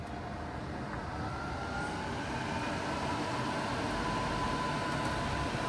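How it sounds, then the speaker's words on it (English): Cooling fans on a Ford F-150 Lightning pickup running during fast charging, a steady broadband whoosh with a faint tonal whine, constant and moderately loud. "I hear fans."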